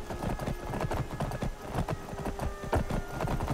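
Horse hooves clip-clop in a video game, where a follower's newly discovered horse trots along. The hoof beats are steady and quick and fairly close, continuing throughout with no talk.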